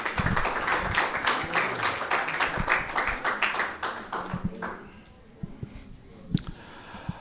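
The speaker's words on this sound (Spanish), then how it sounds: "Quiero invitarles a que todos recibamos con un aplauso muy fuerte de honra al pastor Luis Aquino" A church congregation applauds loudly at a Sunday morning service, dense clapping for about five seconds before thinning out to a few scattered claps, with faint voices underneath.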